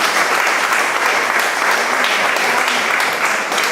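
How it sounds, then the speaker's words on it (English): Loud, steady applause from an audience fills a hall after a presentation on a hospital plan, dense and continuous throughout. "Give her another big round of applause."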